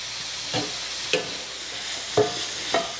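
Vegetables for New Orleans style red beans sizzling in a pot, a steady soft hiss broken by a few distinct stirring knocks and scrapes of a spoon, close with no voices.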